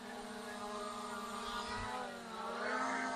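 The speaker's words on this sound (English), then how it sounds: "Lavelle, let you guys hear these motors and check him out." Motors of an ATTOP W80 GPS drone whine in flight, a steady buzzing drone with shifting pitch that rises and falls slightly as it hovers nearby, fairly loud and continuous.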